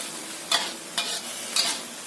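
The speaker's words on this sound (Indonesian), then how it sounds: "Tumis sampai matang." Stir-frying in a pan with sesame oil makes a soft, steady sizzle, broken by three sharp scraping strokes of the spatula at roughly half-second intervals, close up with no talking.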